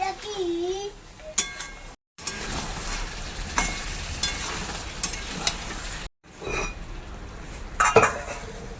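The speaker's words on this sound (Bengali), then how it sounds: "যে ম্যারিনেট করে রেখেছি খাসির মাংসটা এইটা এবারে দিয়ে দিলাম এটা ঢাকা দিয়ে দেবো ঢাকা দিয়ে কষিয়ে নেবো" Marinated goat meat going into a hot pan for a home-style goat curry, with clattering pot and utensil sounds, stirring and a steady frying sizzle, close and moderately loud, briefly cut by two short silences.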